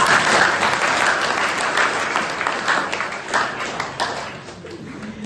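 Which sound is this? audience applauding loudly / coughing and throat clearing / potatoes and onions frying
audience applauding loudly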